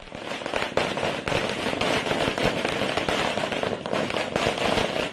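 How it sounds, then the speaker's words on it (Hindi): Firecrackers set off late at night by party workers celebrating an election win outside a politician's home in Patna, Bihar, crackle and pop in a dense, continuous loud barrage with no break. "देर रात पार्टी कार्यकर्ताओं ने आतिशबाजी कर जीत का जश्न मनाया"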